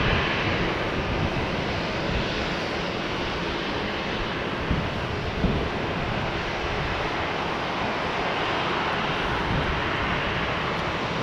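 A jet airliner at Tampa International Airport lining up on runway one right and beginning its takeoff roll, heard as a loud, steady broadband engine roar that holds throughout with no talk.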